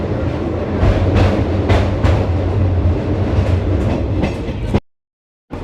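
The Vibhuti Express running on rails past Kashi station: a loud, steady rumble with rhythmic clickety-clack wheel beats over the joints, cut off abruptly near the end.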